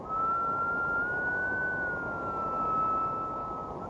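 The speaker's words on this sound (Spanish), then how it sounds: "Si comparamos esta nota con el sonido de, digamos, el silbato de un tren, al acercarse el tren para luego alejarse, la nota sube y baja de este modo." A single steady whistle-like tone, as of a train whistle, drifts slightly up and then back down while a train passes, loud and alone over a broad rushing background.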